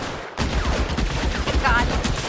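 Gunfire in L.A. Noire, a rapid string of shots from an enemy firing nonstop, loud and close, overlapping with talk throughout.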